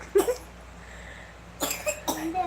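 A small child coughs close by, one short cough early and then a few quicker coughs near the end, with quiet room tone in between.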